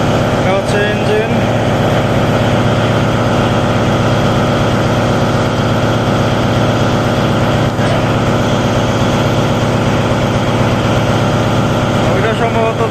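Engine of the Prince Awlad 10 passenger launch on the Barisal route drones steadily in its engine room, a loud, continuous low hum with mechanical vibration that never lets up, and no one speaks.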